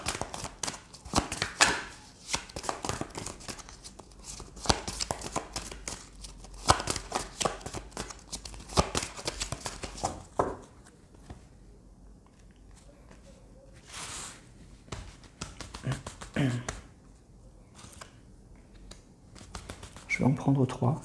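An angel love oracle card deck is shuffled and handled by hand, giving a long run of soft rustling, flicking and slapping bursts that thin out toward the end, close and fairly clear.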